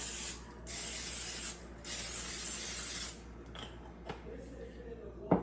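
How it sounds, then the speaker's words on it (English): Two sustained hissing bursts of an olive oil cooking spray close by, followed by quieter handling clicks and a small clatter. "Now we're gonna spray it with a little olive oil."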